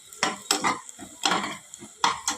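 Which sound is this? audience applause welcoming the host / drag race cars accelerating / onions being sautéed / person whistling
onions being sautéed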